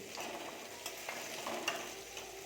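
Capsicum and green chili being stirred and fried in a pan for a homemade mushroom chowmein, a steady soft sizzle broken by irregular scraping stirs, close and moderately quiet with no voices.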